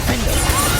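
A Reducto spell smashes a target in Hogwarts Legacy combat, a short, dense crashing burst that fills the moment at steady loudness.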